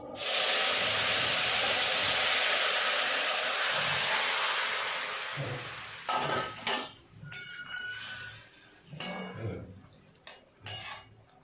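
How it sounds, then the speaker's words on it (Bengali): Shukto, a Bengali vegetable curry, is poured into hot oil with panch phoron, setting off a loud, broad sizzle that fades after several seconds into quieter bubbling and scattered clinks of a utensil against the pan. "পাঁচ ফোড়নটা ভাজা হয়ে গেছে, শুক্তোটা এর মধ্যে ঢেলে দেবো।"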